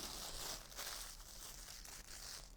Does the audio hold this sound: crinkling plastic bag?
yes